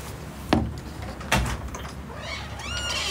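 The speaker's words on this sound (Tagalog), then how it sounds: "Narinig niyo may kumakatok." Two distinct knocks land on a door indoors, about a second apart, loud and close, followed by fainter rustling and squeaky sounds.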